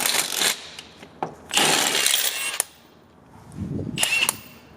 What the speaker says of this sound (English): I am just going to attempt to use my Milwaukee.